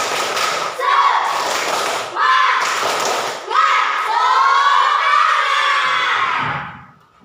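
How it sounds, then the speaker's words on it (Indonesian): A school class performs a rhythmic spirit-clapping routine, with loud, close bursts of group clapping in patterned beats broken by short pauses, mixed with children's shouting and chanting voices before everything fades out. "ibu mau tepuk semangat"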